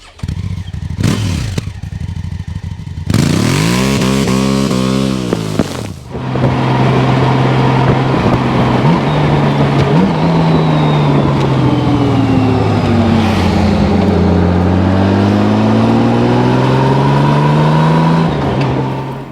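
A 2007 Honda Goldwing GL1800 motorcycle starts with a couple of cranking bursts, then its engine runs loudly up close, rising and falling through revs with a smooth, steady drone.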